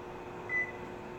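A microwave oven's timer is set while dishes are being washed in a home kitchen, giving one short, fairly faint beep over a steady low hum.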